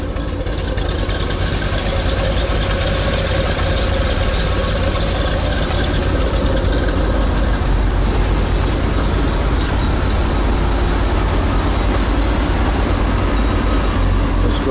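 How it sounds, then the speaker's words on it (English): A cold 1969 Corvette Stingray with a 427 engine idles steadily and loudly throughout, a continuous low rumble with no misfire and no talking. "Motor running."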